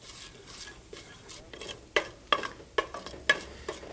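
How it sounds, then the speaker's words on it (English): Two bay leaves with asafoetida sauté in a pan, a soft sizzle punctuated by a series of crisp, clattering stirs of a utensil, close and without talk. "Saute those for a few seconds."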